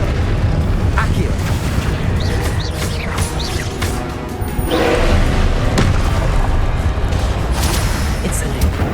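Spell blasts going off in the Hogwarts Legacy game: a dense, continuous rumble of booming explosions and crackling bursts, loud throughout with a heavier swell near the middle.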